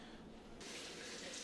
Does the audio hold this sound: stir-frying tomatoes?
no